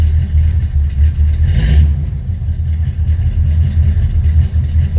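A 1972 Oldsmobile Cutlass V8 with a Holley 750 carburetor and the choke unhooked, running just after starting: a loud, close, lumpy low idle with a brief rev and some clatter.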